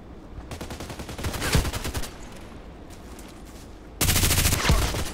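Bursts of automatic gunfire from an RPK light machine gun in the online shooter Contract Wars, one long rapid burst that swells and fades, a pause of quieter ambience, then another loud close burst.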